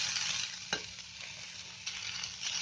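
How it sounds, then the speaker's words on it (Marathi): Grated carrot and beetroot frying in hot oil, a steady, quiet sizzle with a couple of soft stirring scrapes, close up and without talk. "मी जे गाजर आणि बीट घेतलाय ते फ्राय करते."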